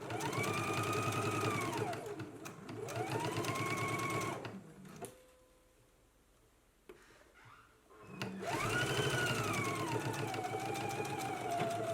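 A sewing machine stitches a 5/8-inch seam joining a jacket's facing to its bands, whirring loudly in two long runs that rise and settle, with a quiet pause and soft handling noises between them.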